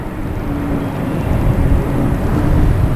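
A loud, steady low rumble of a jet airliner's engines at Boston Logan Airport, continuous and close, with no voices.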